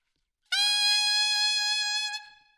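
A saxophone sustains a single high F fingered with all three palm keys plus the side E key, a bright steady tone lasting about a second and a half before stopping cleanly.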